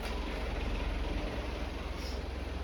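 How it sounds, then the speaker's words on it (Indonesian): A heavy truck passes outside during a religious study gathering, a steady low rumbling engine drone that holds even throughout, moderately distant, with no talk over it. "kita pause sebentar untuk nunggu truk"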